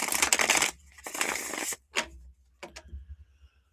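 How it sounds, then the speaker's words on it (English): A deck of reading cards is shuffled close up in several quick riffling bursts, followed by a few short taps and clicks as the cards settle. "Let me just shuffle these up."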